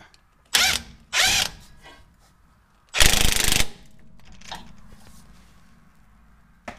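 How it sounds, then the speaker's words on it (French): An impact wrench breaks seized nuts on a Land Rover Defender steering damper: two short rattling bursts, a pause, then a longer, louder burst, with a few faint mechanical clicks in between. "J'ai réussi à enlever les écrous à la clé à choc."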